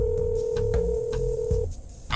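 A telephone being dialed, a steady dial tone with short beeps and clicks over a low background, ending as the tone cuts off.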